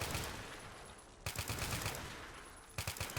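Video game gunfire aimed at a huge zombie horde, rapid automatic bursts with a steady rattling rhythm, loud and close, broken by a short pause before a second burst, with no talk over it.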